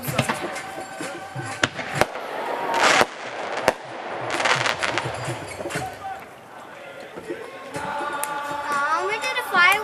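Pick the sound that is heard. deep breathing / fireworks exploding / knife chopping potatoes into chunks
fireworks exploding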